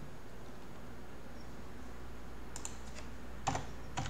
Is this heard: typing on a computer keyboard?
yes